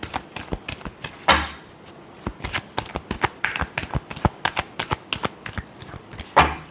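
Tarot cards are shuffled close by in a rapid run of crisp riffling flicks and taps. The texture is uneven, with a few louder slaps of the deck and no speech.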